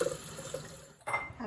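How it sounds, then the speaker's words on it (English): Cool tap water runs over freshly boiled eggs in a kitchen sink, a soft continuous splash and trickle that shifts in tone partway through. "Let the cool water go over these"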